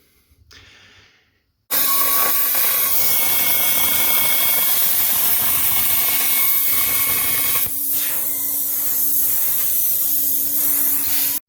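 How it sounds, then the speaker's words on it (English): A plasma cutter slices steel parts for a 1/14 scale train and lowboy model, giving a loud, steady, continuous roaring hiss that starts abruptly and holds for about ten seconds with a constant tone. "we have a plasma cutter at work. So I plasma cut all these individual parts out"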